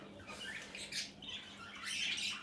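Faint squawks and chirps come from pet cockatiels and lovebirds in a bird room, a few brief bright calls over quiet background hiss.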